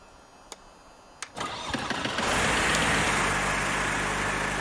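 A single-engine general aviation aircraft starts up in the X-Plane 11 flight simulator: a few sharp clicks, then the engine cranks, catches and settles into a loud, steady drone with no talking.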